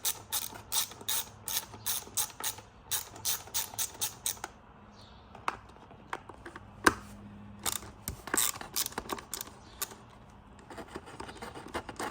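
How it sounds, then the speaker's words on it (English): A ratchet clicks rapidly in repeated bursts while removing a T25 bolt from behind a Tesla Model Y/3 steering wheel, close and crisp, with quieter scattered clicks and handling noises afterward and no speech. "And then you can go ahead and take out that T25 bolt."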